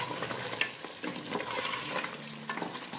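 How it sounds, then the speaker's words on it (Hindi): Butter frying into a restaurant-style meat curry on high gas flame: a steady close sizzle with soft stirring scrapes and bubbling throughout, no talking. "मैंने इसको अभी हाई गैस पर रख दिया है, और इसमें ये बटर डालूंगी"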